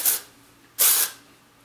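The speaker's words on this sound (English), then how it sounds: "So the first step will be working the texture spray into your hair." Two short bursts of aerosol texture spray into hair, close by, the second longer than the first, with quiet pauses around them.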